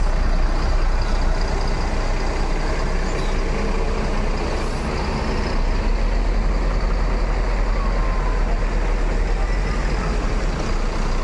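Ultimate Class bus reversing at a busy terminal, its heavy diesel engine droning loud and steady throughout, with traffic rumble around and voices faintly in the background.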